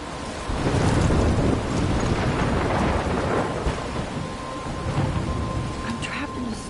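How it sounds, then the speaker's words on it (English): Video-game thunderstorm near a lighthouse: a steady roar of heavy rain with rumbling thunder swelling early and again near the end, loud and continuous with no clear talking. "I'm trapped in a storm."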